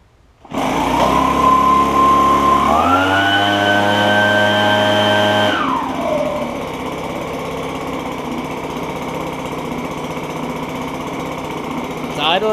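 An Echo PB265L backpack blower with a newly replaced ignition coil runs loud and close, rising in pitch as it revs briefly, then settling into a steady, lower idle hum for the rest of the clip.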